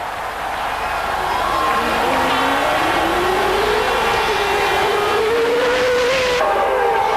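Formula 1 cars from the 1992 Grand Prix season racing on track, a continuous high engine whine rising and falling in pitch as cars pass, with crowd noise and commentary over the top.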